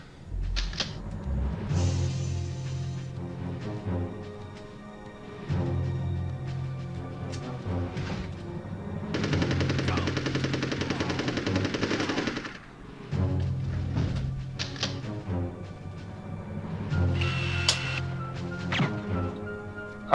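Enemy shotgun fire in the video game Army Men Sarge's Heroes, on a snow mission: repeated bursts of gunfire break out over a layer of game music and sound effects and keep going at a steady loud level throughout.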